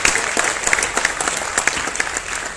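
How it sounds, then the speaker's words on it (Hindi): An audience at a Hindi comic poetry gathering applauds, with brisk, uneven clapping that rises and falls throughout. "तो आपका कर्तव्य बनता है कि इस विचार पर एक बार तालियां बजाएं।"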